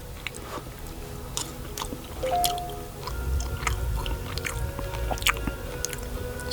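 Close-up chewing and biting of grilled salmon and asparagus at an outdoor campsite, soft squishy mouth sounds repeating steadily with occasional sharper bites over faint background hiss.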